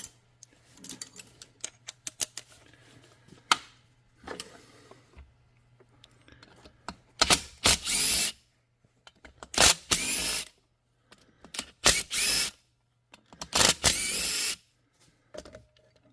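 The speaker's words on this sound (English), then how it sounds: "let's undo our bottom screws here." Screws being undone on a STIHL MS250 chainsaw with a power driver, heard as several separate bursts of a small motor whirring, each a second or so long, between quieter clicks and handling noises, close and alone with no talk.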